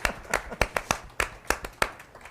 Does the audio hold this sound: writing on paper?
no